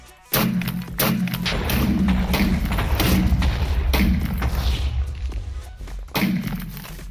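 A Minecraft Create Big Cannons autocannon firing armor-piercing rounds, a rapid series of heavy booming thuds in quick succession that starts abruptly and ends with a final thump.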